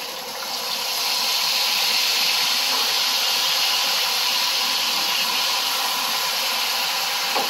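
Hot oil sizzling steadily while tandoori chicken cooks, a loud, continuous broadband hiss that holds without pause from start to finish, with no talking.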